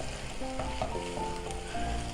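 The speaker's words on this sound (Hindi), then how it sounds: "ये देखें, इसमें मैंने एग्स डाल दिए हैं।" Eggs frying over a high flame in a pan while fried rice is made, heard as a steady close sizzle lasting a couple of seconds, with faint tonal music in the background.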